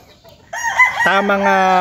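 A rooster crows once, close and loud, with a long, strained, harmonic call that holds steady to the end.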